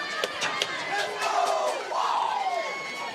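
A big crowd at a high school football game in Raymond cheers and yells continuously, loud and sustained, with rising whoops and shouts through the whole stretch.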